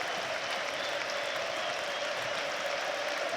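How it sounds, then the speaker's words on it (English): Football fans in a stadium at a Sunderland versus Burnley match applaud a player, giving a steady wash of clapping from a large crowd heard at a distance without a break. "See fans on their feet, applauding him, rightly so."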